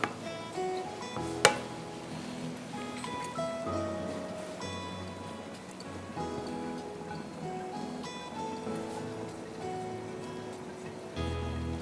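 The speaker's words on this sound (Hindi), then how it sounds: "अब ये जाएगा इसके ऊपर तड़का" Hot ghee tadka for Swahli biryani sizzling and crackling as it is poured over the biryani mixture, a dense, steady spitting hiss with scattered sharp pops, close by and with no talk.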